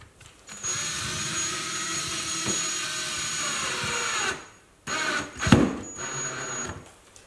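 A power drill drives screws through pine boards for a built-in library wall. One long, steady whir runs close and loud for about four seconds, then a short, sharper burst follows after a brief pause.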